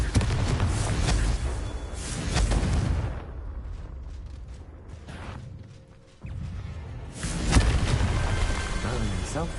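In Hogwarts Legacy, fiery Confringo spell blasts burst with heavy booms and crackling debris, loud at the start and again near the end after a quieter stretch, while a voice speaks between them.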